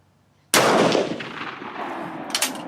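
A single sharp rifle shot firing reloaded GP11 brass ammunition cracks loudly after a short quiet moment, then rolls into a long outdoor echo and decay with a faint clink near the end.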